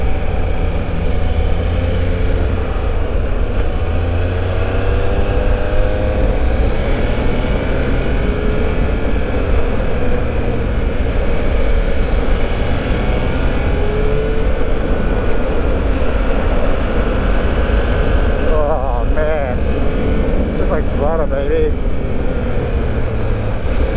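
A 2021 Triumph Speed Triple 1200 RS engine pulls hard toward 7,000 rpm on a ride, its rising tone partly buried under loud, constant wind rush.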